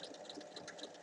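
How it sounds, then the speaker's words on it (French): Sewing machine topstitching the full length of a bag's zipper, a steady mid-pitched mechanical whir with fine rapid needle ticking, fairly quiet and continuous for about a second with no talking. "Et on va venir faire une surpiqûre tout du long ici."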